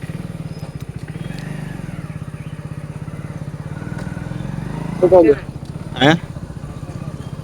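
A motorcycle being ridden toward a temple in Gujarat holds a steady engine drone throughout, with brief louder bursts near the end. Someone talks over it.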